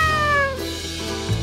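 A cat meows once, a loud, close, drawn-out cry that falls in pitch, then tonal electronic arcade sounds carry on faintly beneath at a Chuck E. Cheese in Mentor, Ohio.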